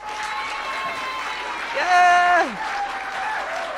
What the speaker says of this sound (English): I'm going to get some applause here